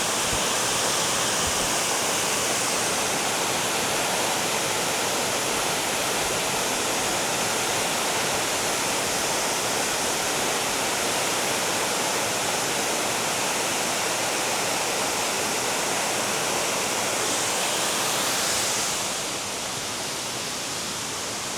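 Tiffany Falls, a waterfall in Hamilton, Ontario, pours in a steady, dense roar that fills the air without a break, then eases slightly near the end.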